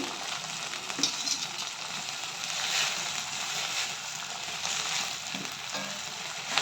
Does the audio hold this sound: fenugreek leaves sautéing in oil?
yes